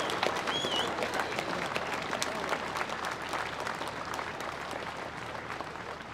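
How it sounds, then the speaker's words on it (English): Outdoor crowd at a farmers' protest in London applauds for a sustained stretch, a dense wash of many hands clapping at steady loudness, with scattered cheers and no clear speech. "So if everyone gives a round of applause for everyone that's here"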